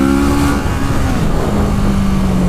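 A 2017 Kawasaki Z650 mid-sized motorcycle engine rising as it accelerates hard for an overtake, a loud steady mid-pitched drone climbing in pitch over continuous road and wind noise.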